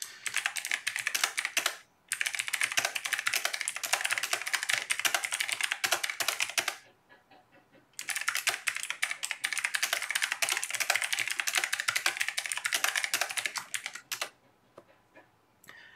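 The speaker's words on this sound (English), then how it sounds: "So I'm going to type this question out, send it, and we'll see what people think." Fast, steady typing on a computer keyboard, close and clear, running in long bursts of rapid key clicks broken by a couple of brief pauses, with no talking.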